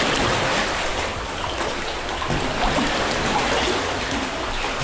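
Broad, steady rush of sea water in a cave off the Himarë coast, close and loud like churning surf while someone swims through, no voices.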